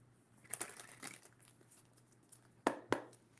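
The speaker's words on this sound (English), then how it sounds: "All right, this is my last shuffle." Tarot cards shuffled by hand during a live reading. The soft, papery riffling comes in a few quiet bursts, ending with two sharper slaps of the deck, close by and faint.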